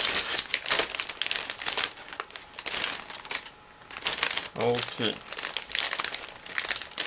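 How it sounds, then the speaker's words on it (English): A resealable plastic bag from a 1/72 scale model kit crinkles and rustles in bursts close by as it is opened, with a brief spoken word in the middle. "So I'm going to open plastic bag first"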